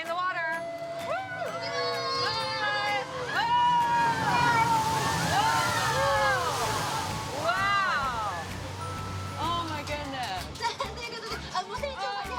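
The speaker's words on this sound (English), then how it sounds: "The Ninja bus is amphibious. It can travel across the water like a boat." Amphibious sightseeing bus plunging from the road into a lake near Izu and Hakone, Japan, with a loud sustained slosh and splash of water as people talk and exclaim excitedly over it.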